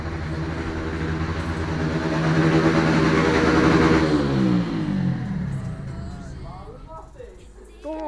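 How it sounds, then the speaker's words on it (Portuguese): A Honda Hornet motorcycle approaches with a revving engine that swells, peaks and then drops in pitch as it passes and eases off, with people talking throughout. "Só escutamos a zoada da moto do Jevin chegando aí"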